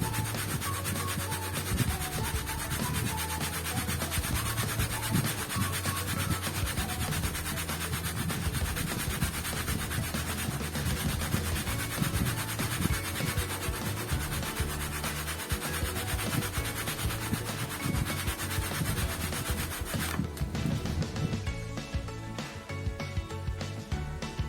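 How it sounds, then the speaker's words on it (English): A styrofoam plate rubbed against clothing gives a steady, dense scraping friction that runs continuously and close for about twenty seconds before easing toward the end. "Take another styrofoam plate, then rub it on the clothes."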